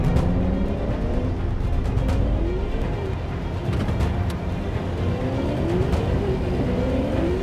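Car engine revving and pulling away over a steady road rumble, with rising and falling engine tones, close and fairly loud throughout.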